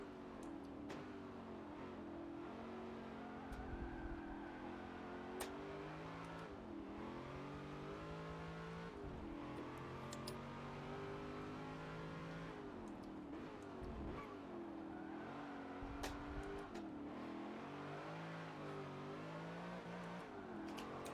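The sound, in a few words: car engine revving on throttle in racing video game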